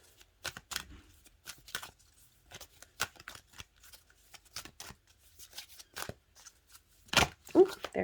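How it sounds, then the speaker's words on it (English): Oracle cards being pulled from a deck, a series of soft crisp flicks and shuffling slaps with irregular rhythm, close and quiet, ending with a few louder card snaps. "Let me pull one more card from this deck."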